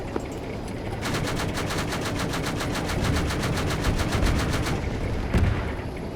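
Rapid automatic weapons fire at a military field training exercise, a long sustained burst of evenly spaced shots cracking out at a steady rhythm over a rumbling outdoor background, followed by a lone louder report.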